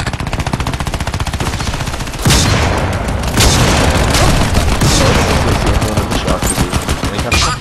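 Rapid automatic gunfire and booming shots from the video game Crysis 3, dense and loud throughout, with sustained bursts and heavier blasts after the first couple of seconds.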